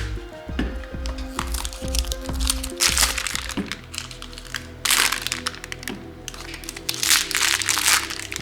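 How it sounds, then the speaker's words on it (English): Scissors cut open a small plastic ink bag for an Epson F170 dye sublimation printer, giving several sharp crinkling snips and plastic crackles in bursts, close to the microphone, with faint mechanical clicks between. "take some scissors and then cut open the little bag here."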